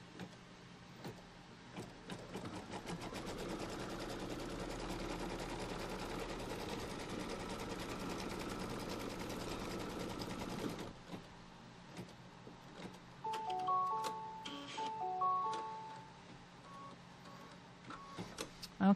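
An embroidery sewing machine stitches fabric for a Kimberbell Pumpkins & Potions quilt block, running in a steady dense whir for about eleven seconds, then dropping to a lighter, intermittent clatter with short tonal beeps and clicks.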